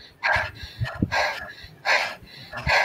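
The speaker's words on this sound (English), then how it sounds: "I want you to take deep breaths like this." A person breathes deeply in and out in a steady, continuous rhythm as a breathing exercise, with four loud, close breaths heard one after another and no talking.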